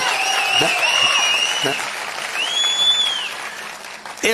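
A large crowd at an open-air political rally applauds loudly and steadily, with cheering whistles rising above the continuous clapping throughout.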